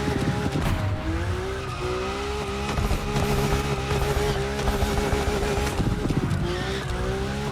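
A RUF CTR-3 sports car drifts in the racing game The Crew Motorfest, its engine droning loudly and continuously alongside sustained tire squeal, with no talking.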